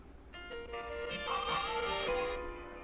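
A short, plucked electric guitar pattern with delay rings out, notes echoing, trailing and overlapping, building slightly in brightness before fading, with no voices.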